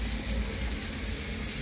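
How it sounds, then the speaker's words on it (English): Water pouring and trickling steadily through a homemade IBC tote hot tub as it drains and cycles, a continuous, fairly soft wash of running water with no talking. "we're letting that water drain down, so it's sort of like cycling through the clean water"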